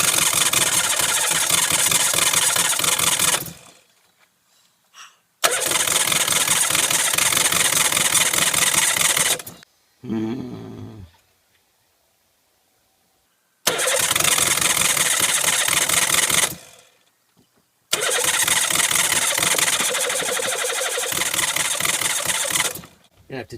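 A van engine cranks and runs roughly in several separate bursts of a few seconds each, loud and close, broken by quiet gaps and a brief softer noise between attempts.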